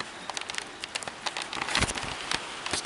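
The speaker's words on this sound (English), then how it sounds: "It's raining." Rain falling, heard as scattered irregular drops and patters on a surface, crisp and close, growing slightly denser midway, with no talk over it.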